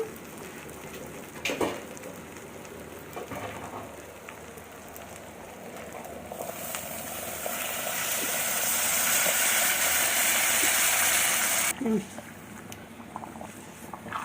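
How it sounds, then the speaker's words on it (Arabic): Boiling water poured onto sautéed rice in a pan gives a rising, hissing rush that swells for several seconds and then cuts off sharply, with faint kitchen clatter before and after. "لما الرز يتشوح كويس كده انزلي بقى بالميه المغليه"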